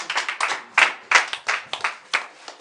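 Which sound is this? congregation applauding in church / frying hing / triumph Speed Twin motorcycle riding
congregation applauding in church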